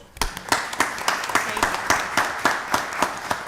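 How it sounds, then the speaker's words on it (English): An audience at a county board of commissioners work session claps in a moderate, steady round of applause with distinct individual claps throughout. "Give them a round of applause"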